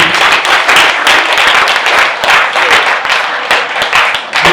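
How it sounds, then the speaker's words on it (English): Attendees at a photography business skills master class clap loudly and close by, with sharp individual handclaps standing out from uneven, rhythmic group applause. "Can we clap for them, please?"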